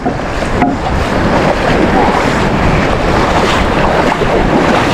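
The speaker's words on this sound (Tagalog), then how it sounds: "Para malaki ata ang alon ngayon." Sea waves wash around a small boat out on open water, a steady loud rush of surf and water noise with heavy wind buffeting the microphone throughout, no clear voices.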